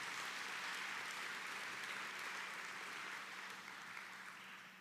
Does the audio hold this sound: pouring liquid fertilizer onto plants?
no